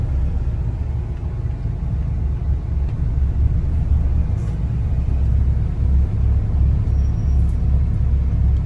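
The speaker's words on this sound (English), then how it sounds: "Traffic." Road traffic rumbles continuously and loudly, a dense low-pitched drone of car engines and tyres passing nearby with no distinct breaks.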